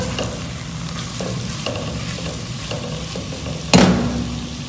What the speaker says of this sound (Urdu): اب میں اسے تھوڑا سا فرائی کروں گی۔